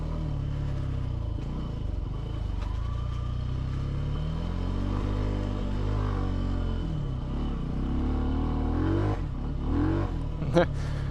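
A 2022 Benelli TNT 135 motorcycle engine revs and pulls up a steep hill at low speed, its close rumbling drone rising and falling in pitch throughout, with a voice heard faintly at times.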